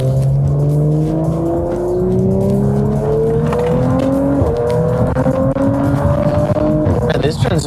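A 2018 Audi RS5 engine pulls hard through upshifts of its ZF 8-speed automatic, loud and close, with rising engine tones that drop briefly at each quick gear change and climb again.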